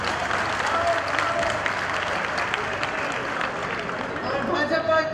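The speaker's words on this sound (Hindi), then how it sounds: "एक बार उनके लिए ताली बजा दीजिए।" A rally crowd at a Congress party gathering in Varanasi, Uttar Pradesh, bursts into dense, sustained applause that stays loud throughout, with voices mixed into the clapping.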